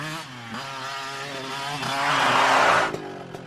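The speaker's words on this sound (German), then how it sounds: "Motorrad da hinten, Freund." A motorcycle engine in The Next Big Thing video game revs and rises to a buzzing peak before cutting off, moderately loud with a harsh, saw-like tone.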